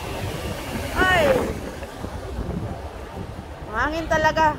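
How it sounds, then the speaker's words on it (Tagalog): Strong wind gusts across an outdoor microphone at the seaside near a seafood market, with voices talking over a steady blustery rush that swells and eases. "Hangin talaga."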